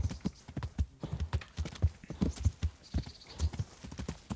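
Pebbles the horse trots along a path in Kingdom Come: Deliverance, hooves clip-clopping in a close, steady, brisk rhythm throughout, with a faint whinny-like sound in the background.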